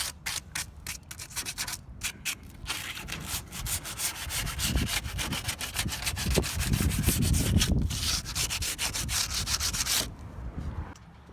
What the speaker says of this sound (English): Once you have it sanded down